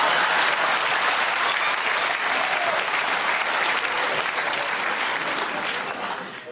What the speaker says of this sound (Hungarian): Egy szolid tapsot tegyünk ide.